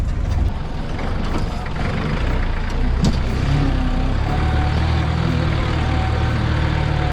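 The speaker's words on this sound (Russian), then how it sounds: "Сейчас мы погрузились в джип" An open jeep drives through a park in Bangladesh, its engine rumbling steadily with shifting pitch and road noise, loud and close throughout without speech.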